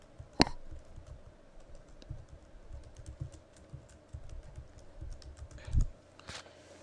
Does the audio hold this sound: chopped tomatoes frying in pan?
no